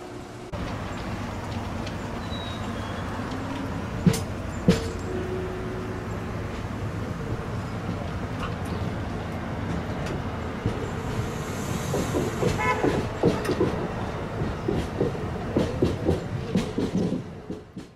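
A southbound regional train pulls out of Westerly Station, a steady low rumble and rolling rail noise running throughout, with a few sharp clanks near the start and the rhythm of wheels picking up toward the end.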